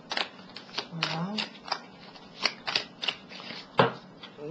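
Tarot cards are shuffled close by for a reading, giving rapid, irregular riffling and flicking bursts that repeat in quick succession, with a faint voice sound briefly in the mix.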